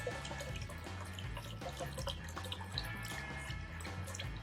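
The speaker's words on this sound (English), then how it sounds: "It's just normal tap water." Ordinary tap water pouring and swirling as it mixes in a container during a kitchen science trick, a steady close trickling and splashing wash with small drips throughout.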